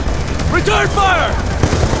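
Gunfire in the Call of Duty Black Ops 2 campaign, a steady loud rattle of weapons through two seconds with shouted voices over it.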